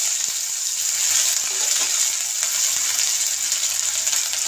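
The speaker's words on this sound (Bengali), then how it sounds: "এর মধ্যে আমি একটু পাঁচফোড়ন দেবো, অল্প একটু ভেজে নিই পাঁচফোড়নটাকে।" Panch phoron and grated ginger fry in oil, a bright, loud and continuous hiss with a few small ticks and clinks, close by and without speech.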